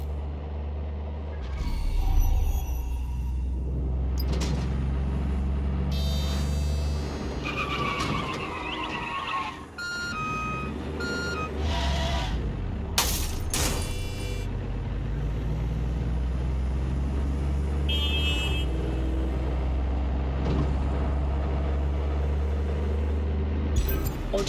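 A car driven in Watch Dogs Legion, with a continuous low engine drone, tire skids, bumps and scattered game effects layered on top, loud and steady for the whole stretch.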